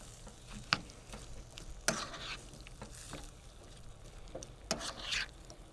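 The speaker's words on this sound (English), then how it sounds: "I'll just keep stirring that until the sauce thickens up a bit" Broccoli beef stir fry being stirred in a pan as the sauce thickens: quiet sizzling under scattered scraping clacks of a utensil against the pan, several sharper knocks standing out, no talking.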